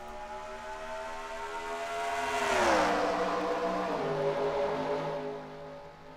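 A pack of stock cars in the NASCAR Racing 2003 video game roars away at the green flag at Homestead, layered engine notes climbing together in a loud, sustained drone.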